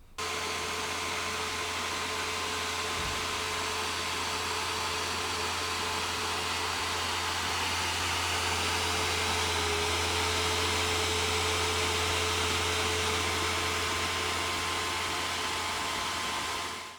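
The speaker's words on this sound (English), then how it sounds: "the card began to drop the clock speed and ramp the fan right up in an effort to stay cooler" Loud, constant whooshing roar of an RTX 2080 Ti graphics card fan spun up to full speed while thermal throttling, a steady broadband rush with a faint tonal whine running unbroken throughout.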